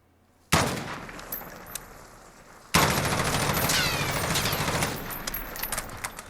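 An MK18 CQBR assault rifle in Call of Duty Modern Warfare fired full-auto from the hip: a short burst, a brief pause, then a long, loud, continuous stream of rapid gunfire.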